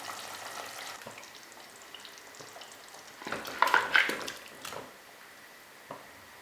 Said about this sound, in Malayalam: ഇനി ഇതിലേക്ക് വേവിച്ച് വെച്ചിരിക്കുന്ന ചിക്കൻ ചേർക്കാം.